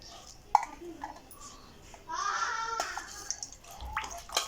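Gentle sloshing and splashing as tamarind is washed by hand in a bowl of water, close and fairly quiet.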